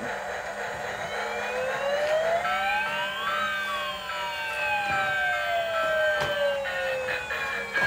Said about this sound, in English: There's the little fire engine.